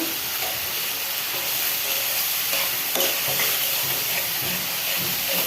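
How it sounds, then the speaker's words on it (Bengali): Spices sautéing in a pan for a bottle gourd curry, a continuous close hiss and sizzle with faint stirring scrapes throughout. "আমি এটাকে ভালো মতন এই যে কষাই নেব"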